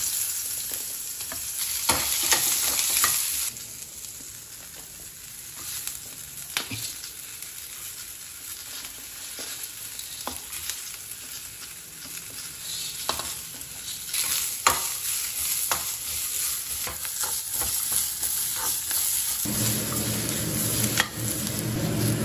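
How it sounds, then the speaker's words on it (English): Ginger, garlic, onion, chili, coconut and spices fry in hot oil with a steady close sizzle, broken by stirring scrapes and clicks, and the crackle swells louder near the end. "So firstly, we need to fry everything in the oil, so it's gonna give you a different taste."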